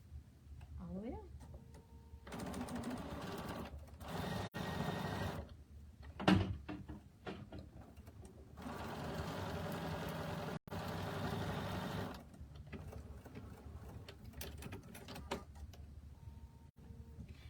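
A sewing machine stitches fabric strips in several runs of steady whirring hum broken by short pauses and a few clicks, close and moderately quiet, with a person speaking in between.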